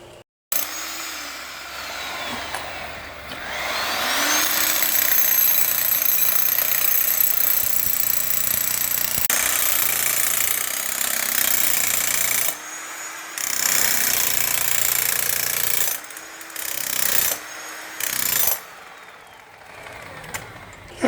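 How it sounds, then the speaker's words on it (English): A small jackhammer breaking concrete pounds away in long continuous bursts, a loud rattling drone that stops and restarts several times near the end. "Had to go out and rent one of these little jackhammer things."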